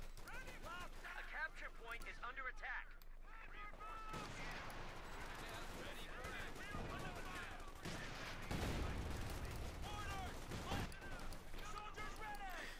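Gunfire in Company of Heroes 2, a World War II real-time strategy battle, with rapid rifle and machine-gun bursts crackling amid explosions and battlefield clatter, heard under continuous excited commentary.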